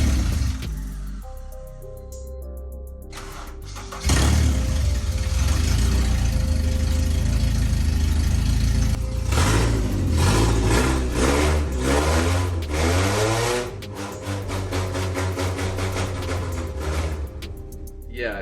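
A lifted off-road Honda Civic's engine starts and runs loudly and roughly, a steady rumbling idle with some rising revs, close up.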